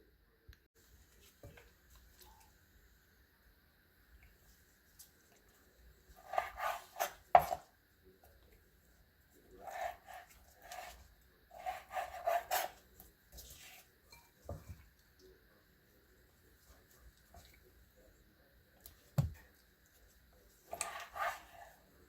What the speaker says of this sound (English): Now I have 1 pound of beef liver, and you need to cut that in manageable sizes